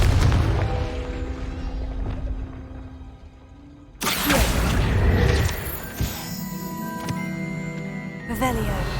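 A Confringo fire spell blasts in Hogwarts Legacy, giving a sudden loud boom and crash that cuts into a sustained musical score, followed by a rumbling tail and a smaller hit near the end.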